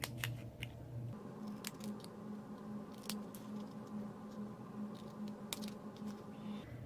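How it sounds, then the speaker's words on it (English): Small paper snips clip through ribbon ends on a craft table, giving a scatter of quick, crisp cuts spread through the stretch over a steady low hum of the room. "I used my paper snips to flag the ends"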